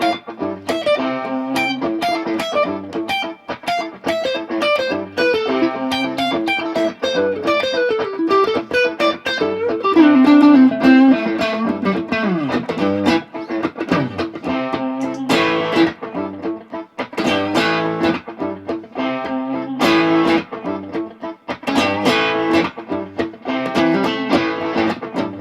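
Distorted electric guitar, a Squier Affinity HSS Stratocaster on its neck pickup, plays continuously with a warm, thick tone, chords and single notes ringing through an effects unit at steady loudness.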